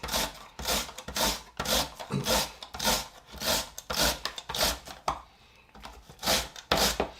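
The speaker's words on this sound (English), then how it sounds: "So just give him a run on the box grater." Potatoes grated on a box grater: a close, steady series of rhythmic rasping strokes, about a dozen passes with brief gaps between them.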